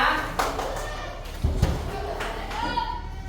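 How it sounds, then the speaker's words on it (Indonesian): A school class claps their hands in a classroom, with scattered uneven claps and a few louder thumps. Children's voices chatter faintly beneath the clapping. "Tepuk tangan semuanya"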